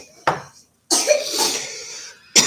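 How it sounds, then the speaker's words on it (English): A person coughs, first one short sharp cough and then a longer raspy fit, with a final cough cut off at the end, all close and loud. "See, my cough's not that bad."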